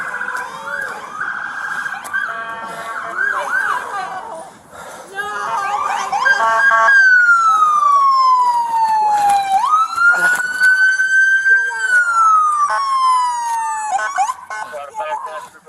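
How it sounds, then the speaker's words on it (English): A police siren wails loudly, its pitch sweeping slowly down and back up, with rumbling traffic and brief clatter before it. "It is not until Officer Cheetah hears the police sirens"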